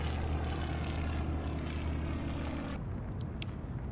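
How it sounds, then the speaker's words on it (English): Propeller-driven warplanes from the naval combat game Atlantic Fleet launch with a steady, loud engine drone that cuts off abruptly near the end, leaving a quieter rumble behind. "Launch those planes."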